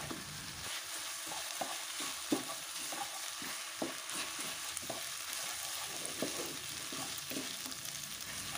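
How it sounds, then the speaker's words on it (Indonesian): Spoon stirring a boiling noodle dish in a pan, with repeated scraping knocks at a steady rhythm over a continuous bubbling sizzle, close and fairly quiet, with no talking. "Nah, kalau udah mulai mendidih seperti ini, selanjutnya diaduk-aduk hingga semuanya tercampur merata."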